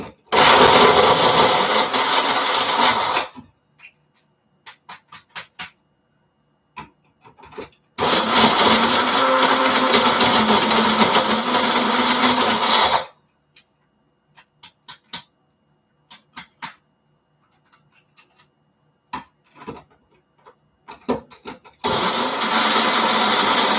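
A food processor minces turkey with paprika and chili in three loud whirring bursts, separated by quiet gaps of clicks and handling noises.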